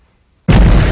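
A shotgun shell set off with a hammer bursts into a single loud, close blast after a moment of silence, the roar sustaining briefly without talk.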